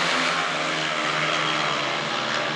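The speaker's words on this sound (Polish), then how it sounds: "A Tomasz Golob świetnie prowadzi motocykl." Speedway motorcycles race in a memorial meeting, their engines making a dense, continuous roar that stays loud throughout, with no voices.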